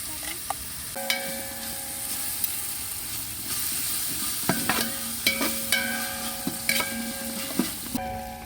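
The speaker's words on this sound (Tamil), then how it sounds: "வெங்காயம் இஞ்சி பூண்டு பேஸ்டெல்லாம் நல்லா வதங்கிடுச்சு" Onion with ginger garlic paste sautéing in a pan, a steady sizzle with repeated spatula scrapes and stirring clatters, close and fairly loud, no voices.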